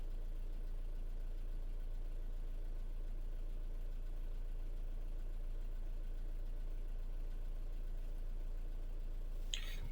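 A 2017 Renault Trafic diesel van with a blocked DPF idles steadily in a low, even rumble, with a brief sharp click near the end.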